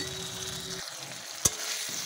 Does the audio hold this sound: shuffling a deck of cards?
no